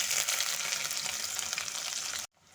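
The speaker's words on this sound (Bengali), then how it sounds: "এখন আমি এর মধ্যে দিয়ে দেব কেটে রাখা পেঁয়াজ" Chopped onions go into hot oil where garlic has already browned, giving a soft steady sizzle and crackle that cuts off abruptly near the end.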